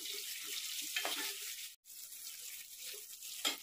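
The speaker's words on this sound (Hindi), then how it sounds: "अब मैं इसमें ये प्याज डालकर इसे हल्का गुलाबी होने तक भून लूंगी।" Chopped onions frying in spiced oil in a pan for a potato and pointed gourd curry, with a steady broadband sizzle throughout and a few soft clinks and stirs over it. The sizzle drops out for a moment partway through.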